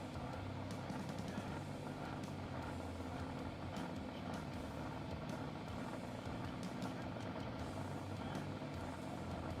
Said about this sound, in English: Both boats fired up, ready to go.